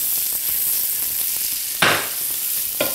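Onion fries lightly in a hot pan with a soft, steady sizzle, broken by two brief louder bursts of sizzling as it is stirred or moved, with no talking.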